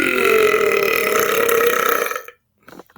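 One long, loud, sustained belch rumbles close up for about two seconds, then cuts off, followed by a brief faint noise.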